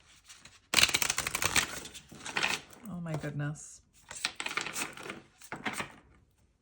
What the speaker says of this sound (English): Having a hard time shuffling this deck.